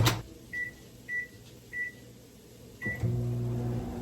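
Four short electronic beeps from a microwave keypad, evenly spaced, then the oven's low hum starts and runs steadily.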